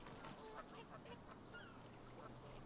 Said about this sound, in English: We can hear frogs, we can hear like ducks, and some water.